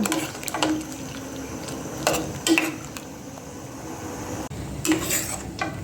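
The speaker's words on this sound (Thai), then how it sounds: "ใส่บวบกับฟักทองค่ะ อันนี้จะนานสุกหน่อยนะทุกคน ใส่ไปก่อน เดี๋ยวต้มไปสักพัก" A metal pot used to cook gourd and pumpkin in soup gives off a few sharp clinks and scrapes from utensils against its side, spaced apart over a quiet simmering background with no talking.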